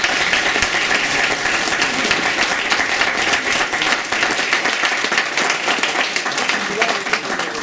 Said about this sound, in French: et bien on peut les applaudir bien